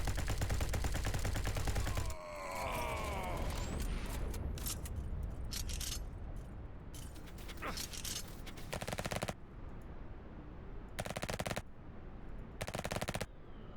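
Slow bursts from an SMG in Spacebourne 2, opening with a dense rapid rattle, then clipped volleys and separate short bursts later, loud and close against a quieter sci-fi backdrop.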